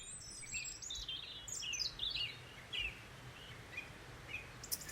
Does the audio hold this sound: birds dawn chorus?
yes